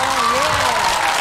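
Studio audience applause breaks out on the KBS Korean game show 가족오락관, a brief steady burst of clapping with a voice running over it.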